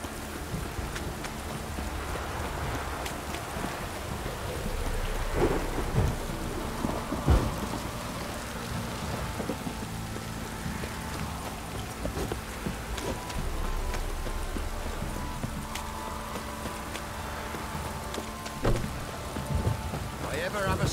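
Steady heavy downpour of rain in The Witcher 3, with low rumbles of thunder rolling through and occasional sharp cracks, continuous and enveloping across the whole stretch.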